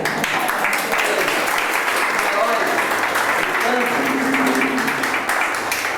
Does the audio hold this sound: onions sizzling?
no